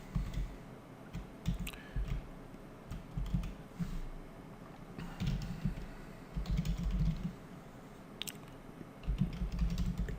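Typing on a computer keyboard: irregular bursts of soft, close key clicks and taps, with brief pauses between runs of keystrokes and no voice over them.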